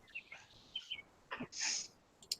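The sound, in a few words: birds chirping outdoors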